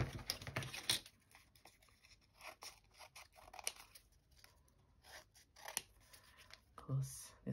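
Scissors snip and trim paper for a junk journal in a few quick crisp cuts mixed with paper rustling, close and fairly quiet.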